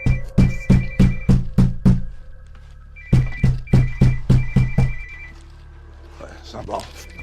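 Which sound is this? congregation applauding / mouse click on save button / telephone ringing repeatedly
telephone ringing repeatedly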